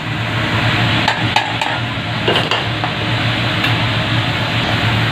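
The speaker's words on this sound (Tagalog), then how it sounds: "So guys, lagay na natin yung mais." Corn dropped into a simmering pot of Filipino pork pochero, a steady boiling sizzle with a few sharp clinks of a utensil against the metal pot, close up.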